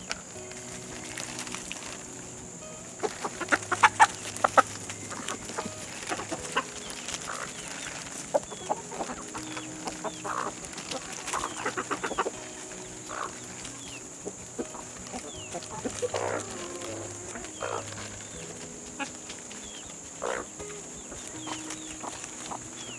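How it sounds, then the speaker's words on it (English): Chickens cluck softly and intermittently nearby as they eat pears, with scattered pecking taps and small rustles against a quiet background. "So let's watch the chickens feast."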